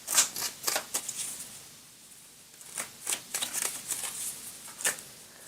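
Tarot cards riffled and shuffled by hand, with a run of crisp, quick flutters and flicks as several cards spill out of the deck, close and fairly soft.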